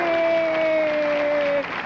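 An audience applauds a girl during a televised interview, a loud wash of clapping under a steady held tone that ends abruptly, with the applause dropping off near the end.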